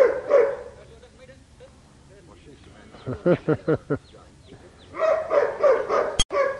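A dog at a dog training school lets out a quick run of four or five sharp, close barks, with people talking and laughing before and after.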